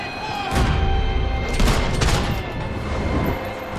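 Gunfire in the video game Max Payne 3: dense, overlapping bursts of shots and booms in a loud, continuous firefight, with shouting voices in the mix.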